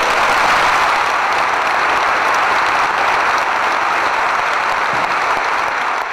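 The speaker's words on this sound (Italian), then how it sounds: "il lungo applauso dell'Assemblea in piedi per salutare l'uomo e il Presidente" A seated assembly rises for a long standing ovation after a farewell speech, steady dense clapping filling the hall without a break from start to finish, loud and close.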